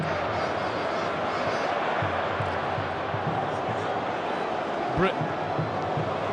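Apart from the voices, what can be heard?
Bradford City fans cheering at football match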